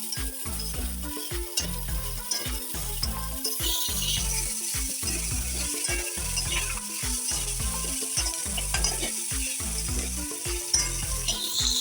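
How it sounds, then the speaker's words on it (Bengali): Dried shrimp frying in a pan with green chilli and chopped garlic sizzles steadily up close, with repeated rhythmic scraping and stirring knocks throughout, and no voices. "কিছু কাঁচামরিচ দেব কিছু রসুনের কুচা দেব দিয়ে চিংড়ি মাছটাকে ভাজতে হবে সুন্দর করে"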